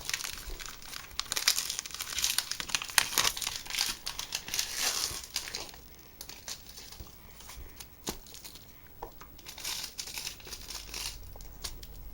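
Pokémon XY Evolutions card booster packs being opened, with close, steady foil crinkling and tearing, brief crunches and rustling pauses over about twelve seconds and no talk.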